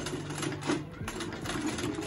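A sewing machine stitches right beside plastic corset boning in a short, close run of rapid mechanical whirring.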